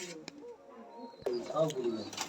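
Soft, low cooing of high-flying pigeons inside a loft, faint and close, with a couple of small knocks and someone speaking over it.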